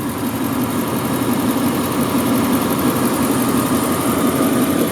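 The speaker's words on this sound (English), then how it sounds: "it's definitely a smooth running engine. It's very quiet too." A 1994 Lexus LS400 V8 idling at rest, a steady low hum with an even, smooth rumble and no revving, close and unbroken for the full few seconds with no one talking.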